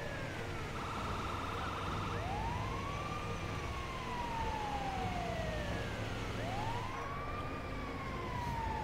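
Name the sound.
ambulance siren in video game GTA V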